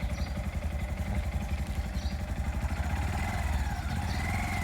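A Honda Monkey 125 motorcycle engine runs steadily while riding slowly around a quiet dead-end street, an even, moderately loud putter with a light mechanical clatter.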